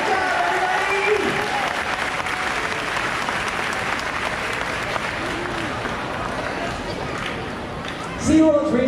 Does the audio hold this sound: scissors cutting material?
no